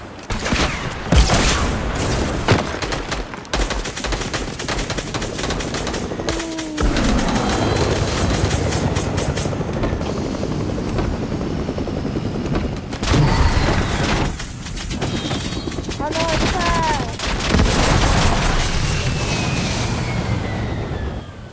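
Fortnite gunfire rattles in loud, dense bursts of rapid shots and booms, broken by brief pauses and whooshing in-game effects throughout.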